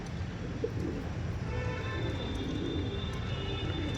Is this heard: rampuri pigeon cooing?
yes